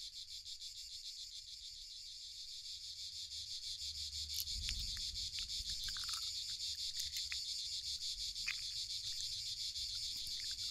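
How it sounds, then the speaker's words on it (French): A continuous high, shrill drone of cicadas in the Mediterranean early summer holds steady throughout, with faint scattered rustles and a brief low thump partway through. "Les lancinantes stridulations des premières cigales se font enfin entendre."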